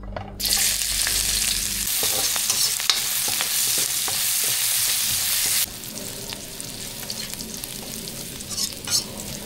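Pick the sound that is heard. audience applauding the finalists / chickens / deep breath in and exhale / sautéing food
sautéing food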